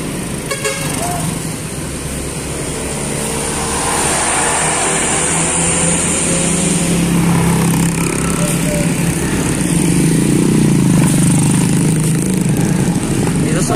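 A metropolitan bus pulls away among a convoy of buses carrying Islamic boarding school students, loud diesel engine rumble building steadily, with horn toots and a voice talking over the traffic noise.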